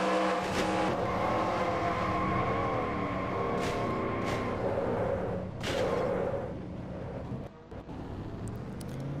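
An on-board race car engine in a stock car racing video game at Rockingham roars in a steady high drone with shifting pitch, loud and close, easing off near the end.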